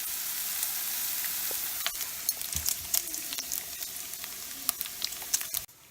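Onions and mushrooms frying in a pan for a keto breakfast, a constant close sizzle with scattered crackles and light scraping taps of a utensil, ending with an abrupt clatter, no voices.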